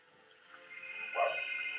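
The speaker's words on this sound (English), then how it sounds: "Can my dog stop barking so I can actually read this?" A pet dog barks faintly in the background indoors, with one short yipping bark rising over a soft sustained tonal hum near the end.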